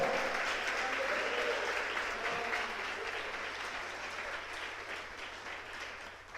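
A church congregation applauds during a sermon, many hands clapping in a steady roomy wash that gradually tapers off over about six seconds.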